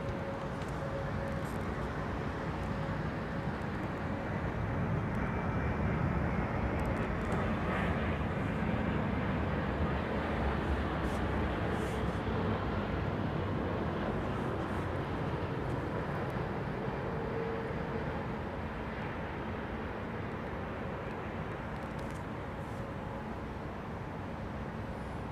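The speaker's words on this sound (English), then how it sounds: "Love the way those wings just relax as soon as the aircraft's on the ground" Aircraft landing at London Heathrow Airport, a long, steady distant roar of engines and airflow at even loudness, with faint higher whines drifting in and out.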